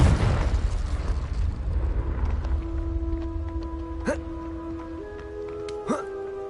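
A Confringo spell explosion in Hogwarts Legacy booms loud and close at the start, then fades into a long rumbling tail as tonal music and game effects rise over it.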